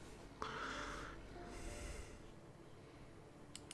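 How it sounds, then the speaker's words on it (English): A single loud snore from a sleeping man in Disco Elysium, one rasping, snorting breath that rises sharply and fades over about a second, with near silence after. "A loud snore escapes his mouth."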